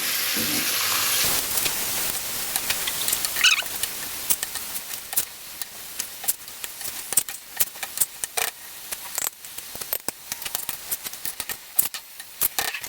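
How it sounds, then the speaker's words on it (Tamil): Chicken and masala stirred together in a pan for a Tamil kozhi kulambu, a sizzling frying hiss with rapid scraping and clicking spoon strokes against the pan, fairly close and continuous, with no talking. "இப்போ நல்லா மசாலாவை சிக்கனோட சேர்த்து ஒன்றா கிண்டி விட்டுடலாம்"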